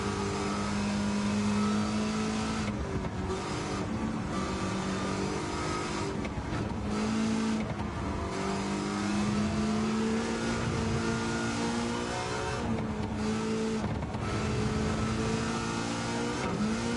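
A car engine in Gran Turismo 7 revs loudly and continuously, its pitch climbing and falling with each gear change and steady acceleration, close and alone.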